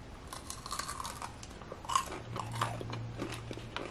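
Biting into a crunchy breaded fish stick cooked in a Dash Compact Air Fryer, a close, quiet sequence of crisp crunches followed by steady chewing, heard alone without talk.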